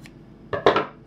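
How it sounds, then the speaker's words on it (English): Scissors snipping knitting yarn, two or three quick close crisp cuts in a quiet room, with no one speaking. "we cut our yarn. Going to cut our yarn here."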